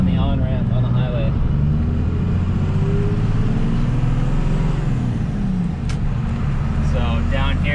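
A 1st Gen Cummins truck fitted with a Banks BigHead wastegate accelerates up a highway on-ramp, its engine drone and turbo rising steadily while a voice talks over it near the start and end.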